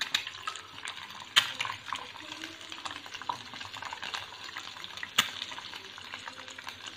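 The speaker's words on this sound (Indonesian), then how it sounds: "Kita menggoreng telur ya, dari minyak hasil pemisahan." Soft, steady sizzling of an egg frying in oil in a pan, with a couple of sharp clinks of a utensil against metal, quiet and close.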